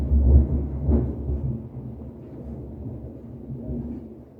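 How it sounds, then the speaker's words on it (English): A deep rolling rumble of thunder, loudest at the start and slowly fading into a long low grumble. "As I'm fairly certain you guys just heard that lightning strike."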